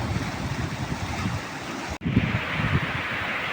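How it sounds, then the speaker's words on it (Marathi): Water rushes steadily in a continuous broadband wash, like a stream flowing close by, briefly cut by a sharp break midway. "बघा हा झरा कसा आहे सांगा किती सुंदर असं वातावरण आहे बघा पाणी वाहत आहे"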